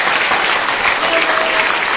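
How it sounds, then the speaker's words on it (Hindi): An indoor audience at a training seminar applauds, a loud sustained burst of clapping filling the whole moment without voices. "एक बार शानदार ताली"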